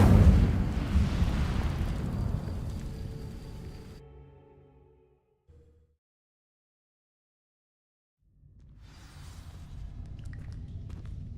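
Incendio fire spell cast in Hogwarts Legacy, a loud whooshing burst of flame that fades into several seconds of near silence before a second rumbling fiery surge rises again.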